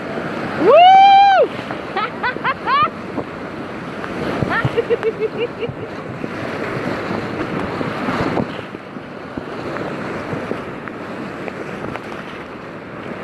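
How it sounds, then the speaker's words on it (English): A kayak runs whitewater rapids in Costa Rica with rushing water and heavy wind noise on the microphone. A loud excited whoop and other voices come at the start, followed by turbulent splashing and roaring water. "Let's go down the rapids."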